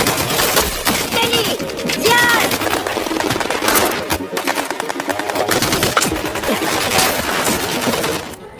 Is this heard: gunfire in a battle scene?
yes